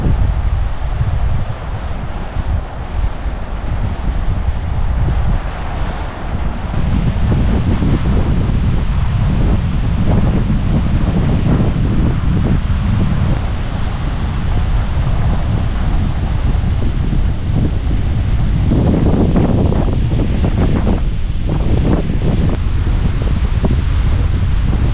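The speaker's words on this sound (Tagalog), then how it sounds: "ang lakas ng hangin, ang sarap" Strong wind roars at a beach in San Juan, Batangas, buffeting the microphone in a steady, loud rumble for the whole stretch, with faint surf beneath.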